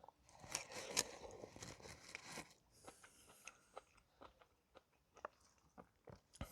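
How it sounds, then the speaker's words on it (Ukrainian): Close, crisp crunching of cabbage in borscht comes first in a dense burst, then settles into a run of separate wet chewing crunches at an uneven pace. "капуста хрумтить. Обожнюю, коли хрумтить."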